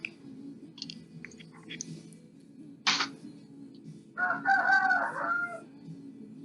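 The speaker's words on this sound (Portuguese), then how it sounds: "Tô escutando um galo." A rooster crows once, a full cock-a-doodle-doo at moderate distance, rising over a steady low room hum after a brief sharp clack.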